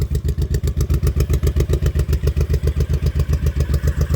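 2005 Honda Shadow motorcycle engine idling after a coolant reservoir replacement, a close, loud, steady rhythmic thumping chug with no talk.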